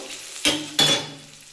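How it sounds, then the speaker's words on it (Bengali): Onion frying in a pan with turmeric, chili and cumin powder being stirred in. Two sharp scraping stirs cut through a steady, close sizzle. "হলুদ লঙ্কা আর জিরে গুঁড়ো বন্ধুরা আমি এটা একটু কষিয়ে নেবো এবার"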